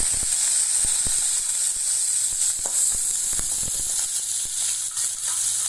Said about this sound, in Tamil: வெங்காயம், கருவேப்பிலை போட்டுக்கிறேன்.